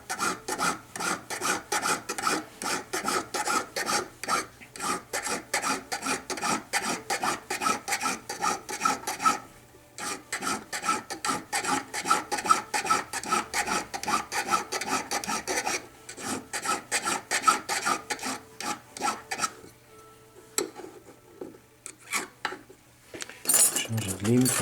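Hand file rasping against a solid precious-metal ball being shaped round, a steady close run of rhythmic back-and-forth strokes with brief pauses near 10 and 20 seconds.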